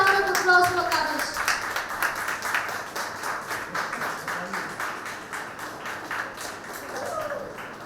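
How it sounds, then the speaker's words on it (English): An audience applauds Kavish at an event with lively clapping that starts strong and continues steadily, with voices audible underneath and briefly at the start. "Let's all give a big round of applause for Kavish."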